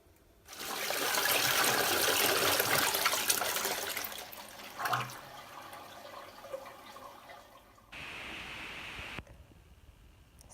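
A household toilet flushes paper down, starting with a loud rushing surge of water that fades into a draining gurgle, then a short steady refill hiss ends with a click.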